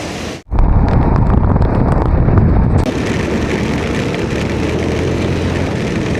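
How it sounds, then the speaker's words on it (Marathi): Heavy monsoon rain pours during a motorcycle ride toward Kolad, a loud, constant roar of rain and rushing wind buffeting the microphone after a sharp gust-like cut near the start. "काय खतरनाक पाऊस पडतोय यार"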